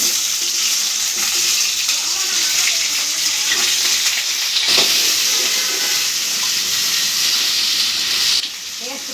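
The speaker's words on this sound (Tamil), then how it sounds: "எண்ணெயை ஊற்றி டைரெக்டாக வந்துட்டு வாழைக்காவை போட்டுடலாம்" Raw plantain pieces fry in hot oil in a pan, giving a loud, continuous close-up sizzle and hiss with occasional stirring, then easing slightly near the end.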